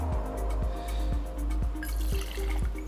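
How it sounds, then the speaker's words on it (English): Tequila poured into a jigger, a close, quiet liquid trickle and fill running steadily for a few seconds with no talking. "So I pour 2 ounces of tequila right here in my jigger"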